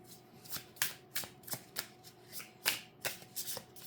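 Kipper cards being shuffled in bursts of crisp riffling and flicks, repeating roughly every half second, close and fairly quiet, alone without any speech.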